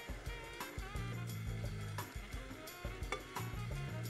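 Stand mixer at reduced speed creaming butter into a chocolate chip cookie pie batter, with rhythmic thumping and clattering as the beater turns, steady mechanical hum beneath and no talk.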